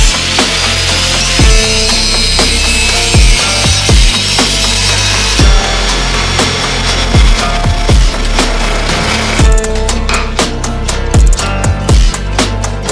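A power saw grinds loudly through the metal battery tray of a Ford EF XR6 in steady bursts, with repeated sharp clanks and knocks as the cut progresses, no talking.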